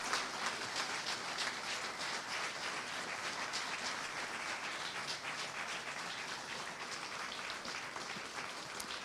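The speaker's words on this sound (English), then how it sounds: "we give a round of applause for our newly promoted Brigadier General" Audience applause at a military promotion ceremony for Col. John P. Lloyd, NAD commander and division engineer, newly promoted to Brigadier General: a dense, steady roar of clapping lasting several seconds with no talk.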